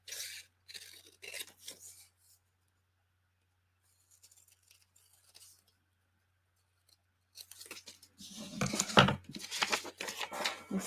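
Scissors cut away the outer part of a paper craft piece in short snipping and rustling bursts, with a quiet pause in the middle before louder crinkling and cutting return.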